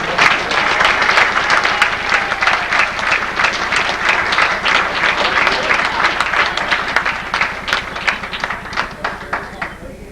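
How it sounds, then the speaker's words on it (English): A crowd at a fire department honors ceremony applauds steadily for two long-serving women, the dense clapping loud and sustained for the full stretch, easing only slightly near the end, with no talking over it. "they need a round of applause"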